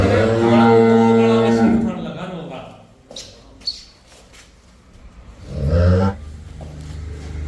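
A Jersey cross heifer on a farm gives two loud, low moos, one at the start and a shorter one later, with faint bird chirps in the quieter gap.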